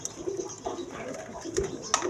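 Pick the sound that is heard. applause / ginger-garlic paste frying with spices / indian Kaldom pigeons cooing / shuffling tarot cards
indian Kaldom pigeons cooing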